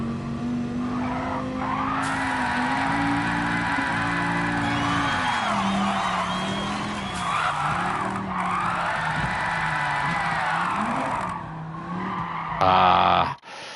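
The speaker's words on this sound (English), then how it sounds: "hit the handbrake and then just slide down to the apex and then start a little skid" Car drifting in Gran Turismo 7: a loud, steady engine drone with rising and falling revs runs throughout, overlaid by long tire squeals and skid screeches, ending with a brief burst of louder noise.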